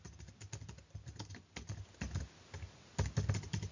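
Keys tapped on a computer keyboard while filling in a resume in MS Word, a steady run of soft, close clicks with a denser burst near the end and no talking.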